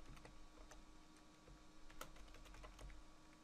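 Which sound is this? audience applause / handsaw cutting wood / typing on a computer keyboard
typing on a computer keyboard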